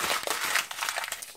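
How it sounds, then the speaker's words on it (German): A CPM 10V steel knife slices through paper, giving a brief, soft crinkling and rustling scrape with small crackles, faint and close, with no voices. "Der geht ein bisschen besser durchs Papier, aber die gehen halt beide durchs Papier."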